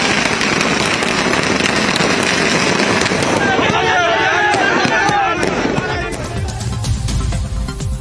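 Firecrackers set off by DMK supporters celebrating in Karur, a rapid, dense crackle of loud bursts that thins out toward the end, with voices underneath.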